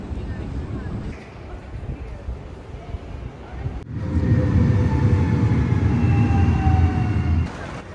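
A low, steady rumble of a moving train near Schiphol Airport in the Netherlands with wind noise, swelling louder midway through and holding, a faint voice briefly audible.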